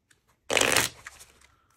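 A single quick riffle shuffle of a deck of cards for a solo board game, a crisp burst of flapping cards lasting under half a second, followed by a few soft taps.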